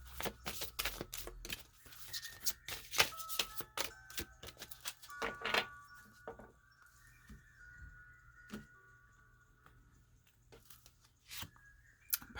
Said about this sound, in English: Okay, a couple more shuffles here.